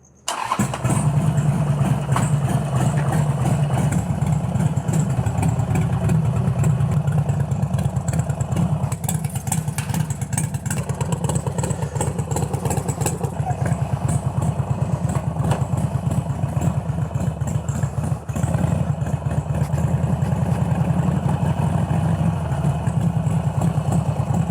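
A rubber-mount Harley-Davidson Sportster 1200 chopper with a freshly rebuilt top end starts and runs steadily, a loud, close, continuous rumbling exhaust with a fast lumpy throb held for the whole stretch, no talking.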